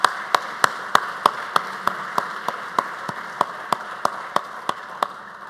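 At a building dedication and honouring ceremony for Professor Kenneth S. Julien, someone close by claps in a steady, evenly spaced rhythm, about three sharp claps per second, over faint room noise.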